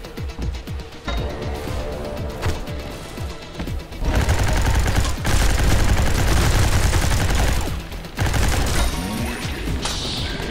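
Gunfire from a gun in the game Gene Shift Auto, loud rapid bursts of shots that start sparse, then build into dense sustained volleys with brief pauses, with metallic clatter between the bursts.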